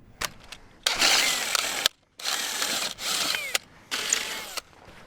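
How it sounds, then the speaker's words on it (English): A power drill bores through a steel Postmaster fence post in three long, loud bursts with short pauses between them, set up for a cedar fence gate with carriage bolts. "So we're going to drill through the Postmaster again"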